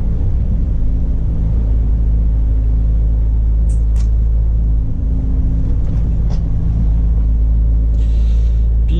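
Steady low engine hum and road rumble from inside a car driving at about 50 km/h through town, constant and loud throughout with faint brief clicks over it.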